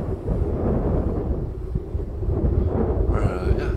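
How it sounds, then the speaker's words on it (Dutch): Strong wind buffeting the microphone outdoors on the Zuiderheide heath after heavy rain, a loud continuous low rumble with gusty swells throughout. "het waait hard"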